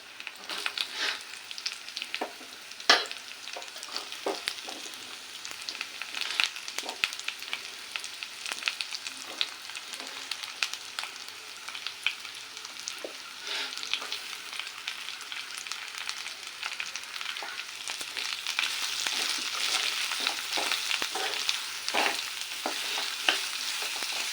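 Vegetables frying in a pan, a dense crackling sizzle that runs on without a break, with frequent stirring scrapes, close up and growing slightly louder toward the end.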